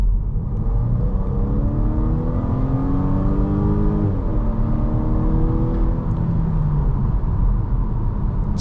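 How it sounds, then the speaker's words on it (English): A 2022 Volvo S60 B5 Momentum accelerates hard from about 25 to 60 mph, its engine droning loud and steady from inside the cabin with rising whine and a brief dip at a gear change midway. "We get up to 25, mash the throttle, and see how fast we can get to 60."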